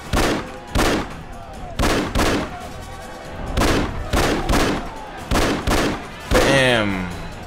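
Bursts of gunfire from the video game Afterfall InSanity, loud close shots in repeated short volleys with brief gaps between them.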